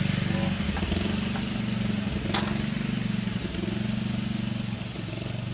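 A Murray 17.5 lawn tractor engine cranks over steadily with a low, rhythmic chugging as the compression release works, loud and close, with a brief clank partway through.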